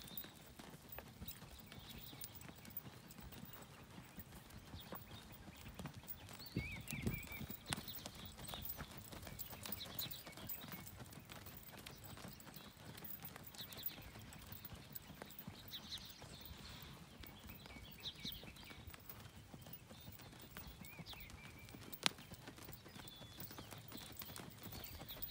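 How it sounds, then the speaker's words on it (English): Horse hooves clip-clop in an even, unhurried flat-footed walk during a western pleasure show class, a quiet, steady rhythm of footfalls over a faint arena background. "Flat foot walk."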